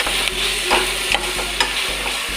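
Crab masala with ginger garlic paste frying in a pan for coastal-style crab sukka, with a spoon scraping and stirring in regular strokes over a steady close sizzle, no talking.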